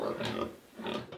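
Pigs on a farm in Brewerville outside Monrovia, Liberia, grunting in close, uneven bursts, with a short pause midway before the grunting picks up again.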